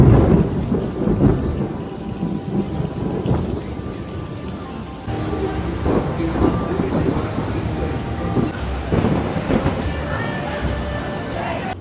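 A thunderstorm passes over Busch Gardens with steady heavy rain hiss and low rolling thunder rumbling throughout, loud and enveloping, with no clear talk.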